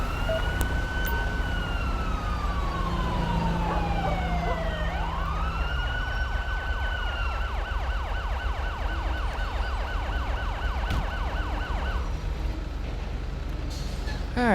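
Police and ambulance sirens wailing and yelping in the GTA V LSPDFR game, with Blaine County/Sandy Shores traffic rumbling beneath; the rising and falling wail shifts into a fast repeating yelp before the sirens stop near the end.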